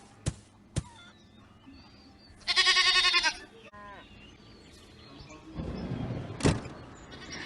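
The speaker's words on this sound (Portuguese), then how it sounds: "E a cabra, que som ela faz?" A goat gives one loud, drawn-out bleat during a nursery-school animal sounds lesson, with quieter talk and background noise before and after it.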